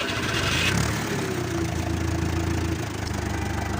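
A Fordson Diesel Major tractor with loader runs its diesel engine, a steady close mid-pitched idle with a little throttle, rough and knocking, heard alone.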